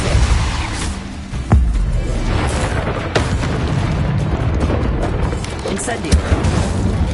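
Booming, fiery bursts of the Incendio fire spell in Hogwarts Legacy erupt repeatedly over dense, noisy game combat, with a voice calling out amid the blasts.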